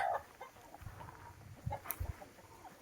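Chickens clucking softly in a coop in a forest, a few scattered short clucks and low calls, faint and nearby against a quiet background.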